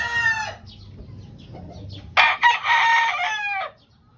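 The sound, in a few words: gamefowl stag rooster crowing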